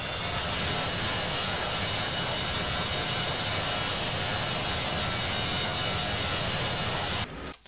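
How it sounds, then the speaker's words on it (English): A steady, loud A-10 jet engine roar in a video game, with a high whine, droning continuously without a break before cutting off abruptly at the end. "I think the new one has more of a whiny engine sound."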